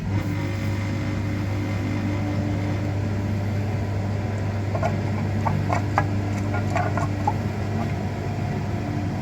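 A radiator flushing machine hooked up to a Nissan Rogue's heater core runs with a steady mechanical hum and drone, while light clicks and ticks surface partway through.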